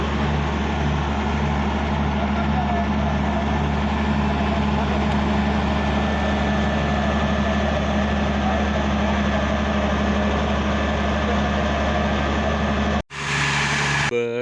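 A generator runs after being started, giving a steady, loud mechanical drone with a constant low hum that holds unchanged for about thirteen seconds before cutting off abruptly.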